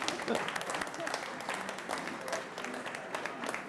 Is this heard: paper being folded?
no